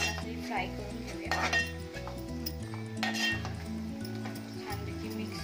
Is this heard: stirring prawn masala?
yes